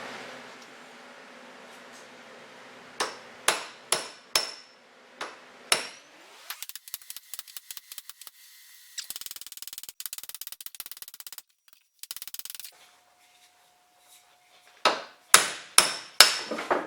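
Hammer blows on the arbor shaft of a Frantom rock saw clamped in a vise, struck lightly so the vise is not broken: sharp close metallic strikes, first in a group, then a rapid run of taps and more single blows at the end.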